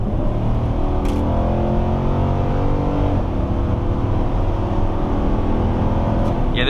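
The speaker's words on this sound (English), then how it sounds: "this truck has really good acceleration" A 2021 Nissan Titan Pro-4X pickup's engine drones loudly and steadily from inside the cab, its pitch climbing as it accelerates from 50, with road rumble underneath.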